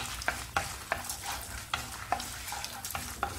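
Dried red chillies and an unpeeled garlic clove fry in hot oil, a soft sizzle under repeated quick scrapes and clicks of a spoon against the pan, close and fairly quiet, with no talking.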